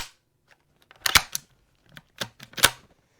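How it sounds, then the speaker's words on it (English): A Savage Impulse rifle in .300 Win Mag gives a series of sharp metallic clicks as the straight-pull bolt is returned and the safety is flicked, spaced irregularly with silence between them. "I just returned the bolt. Safety off."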